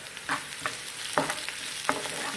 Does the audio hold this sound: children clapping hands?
no